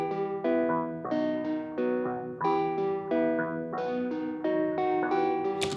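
Reggaeton beat built in FL Studio with a flanger effect, a sweeping, slightly vintage-toned melodic loop of repeating synth chords in a steady bouncing rhythm, close and continuous with no voices.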